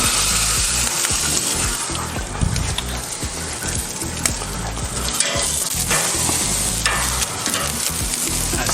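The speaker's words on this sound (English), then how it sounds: "I'm gonna put the picanha on its fat side down just for a minute" Picanha steak searing fat side down on a hot grill grate, a loud, dense, continuous crackling sizzle with scattered pops, close and unbroken throughout.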